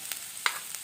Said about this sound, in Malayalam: മുളക് പൊടി എന്നിവയിട്ട് നമുക്കൊന്ന് ഇളക്കാം